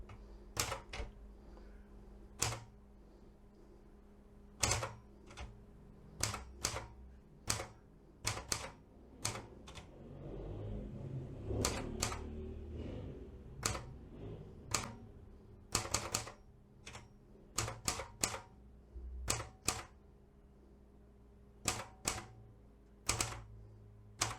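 Seiko manual typewriter with an F-layout keyboard typing, sharp mechanical key strikes in irregular bursts with pauses and a busier clatter in the middle, close and clear with no talking.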